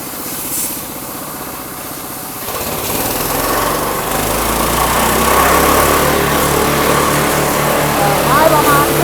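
A 7 hp standard-model wood chipper engine revs up during a demonstration. Its steady mechanical drone climbs and then holds loud and close for several seconds, with some voices faintly behind it.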